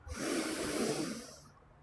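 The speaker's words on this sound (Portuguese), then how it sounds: "faça uma respiração profunda" One long, deep breath drawn in close to the microphone during a guided relaxation, a soft airy hiss that swells and then fades within about two seconds.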